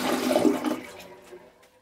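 A Glacier Bay dual-flush toilet in a hotel bathroom flushes close by, a loud rushing surge of water that drains away and fades over about two seconds.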